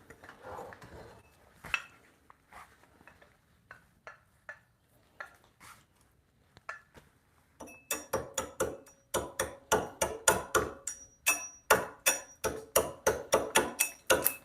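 An adze chops bark off a wooden stump table, giving sharp woody strikes that start sparse and then become a steady, rapid series of close, crisp chops.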